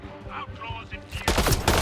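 Gunfire in Mass Effect: Andromeda erupts as a loud, dense burst of rapid shots during a fight with outlaws on Kadara, following a quieter stretch where a voice and game sounds are heard.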